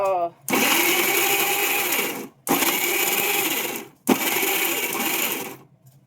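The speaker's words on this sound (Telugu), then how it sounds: "ఈ మిక్సీ స్పెషాలిటీ ఏంటంటే ఇది మనం చెయ్యి ఇలా పట్టుకోవాల్సిన అవసరం లేదు ఇది ఇక్కడ లాక్ అయితేనే తిరుగుతుంది" A mixer grinder (mixie) runs in three loud, steady whirring bursts of about two seconds each, separated by brief pauses as it stops and restarts, with no talking over it.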